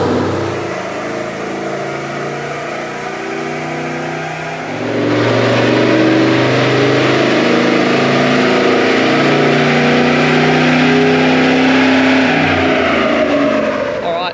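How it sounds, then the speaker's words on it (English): Loud car engine on a dyno climbing in revs, a droning mechanical roar that builds sharply about a third of the way through and holds high with shifting harmonics, recorded nearby. "Coy's running it up now behind me. You'll hear it, it's quite loud"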